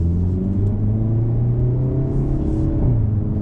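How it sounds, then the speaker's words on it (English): A 2024 Hyundai Elantra N's exhaust, in sport mode with baffles open, drones loudly and steadily, its pitch stepping through quick 8-speed dual-clutch gear changes as the engine pulls. "nice sound out of the exhaust. I do have it in sport mode."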